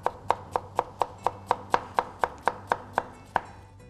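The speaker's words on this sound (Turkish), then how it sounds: "Tekrardan bunları da şöyle minik minik doğrayalım." A knife chops carrots into small pieces on a cutting board in a kitchen, about fourteen crisp, evenly spaced cuts in a quick steady rhythm, close and clear with no talking.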